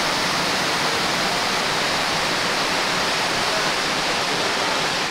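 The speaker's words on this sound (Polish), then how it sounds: "Tak właśnie wygląda ten wodospad po powodzi" A waterfall in Australia swollen after a flood, its spray-filled roar loud, close and unbroken as a steady wash of falling water.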